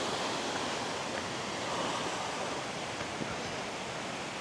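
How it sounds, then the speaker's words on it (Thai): Khlong Nam Lai Waterfall in Kamphaeng Phet, Thailand, roars continuously, a dense, steady rush of falling water filling the air with no other sounds. "โอ้เสียงน้ำตกเนาะ ดังกึกก้องเลยนะครับ"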